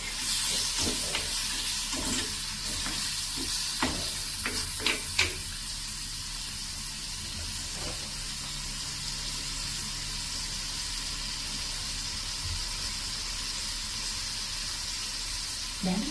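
Garlic tempers in hot oil with a continuous, even sizzling hiss, joined early by a few light clicks and taps and a faint voice in the background.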